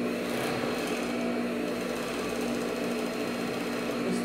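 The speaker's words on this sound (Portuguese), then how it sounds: "Aí vocês vêm aqui na máquina agora e costura" A sewing machine runs steadily, stitching around a fabric bra cup as it is turned under the needle. The motor hum is close and continuous, with no talking.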